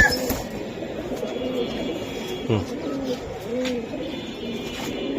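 Domestic pigeons at a pigeon seller's stall coo in repeated soft, rolling calls close by. Several birds overlap at times, and people talk over them.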